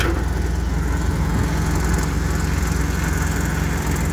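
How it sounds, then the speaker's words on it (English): An air compressor runs on a truck with the PTO disengaged, a steady loud mechanical drone with strong low rumble and broadband hiss, continuous and close throughout. "That noise you hear is the air compressor."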